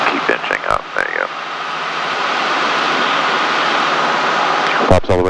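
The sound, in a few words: Cessna 152 aircraft engine with power reduced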